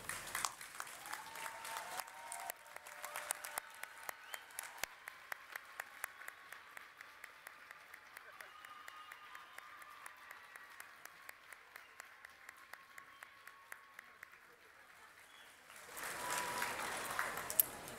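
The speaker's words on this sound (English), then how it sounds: "let's offer them a round of applause for their support" Applause from the audience at a university winter commencement ceremony: a steady patter of many hands in a large hall, faint and distant, swelling louder near the end.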